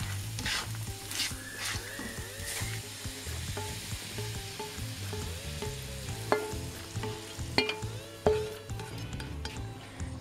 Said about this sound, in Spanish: Una vez que el aceite ya está caliente, le añadimos la zanahoria.